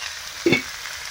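Eggplant fries in a pan with a soft continuous sizzle and one brief louder burst of spattering partway through, heard close and alone.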